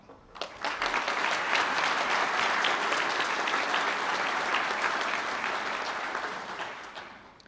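Graduates of International Tourism Management stand at a hotel school graduation in Galway while a hall audience gives them sustained, dense applause. It rises quickly, holds steady and loud for several seconds, then tapers off.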